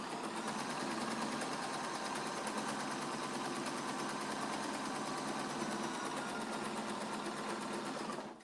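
A sewing machine runs a quilt seam at a constant fast clatter for about eight seconds, close and alone, then cuts off.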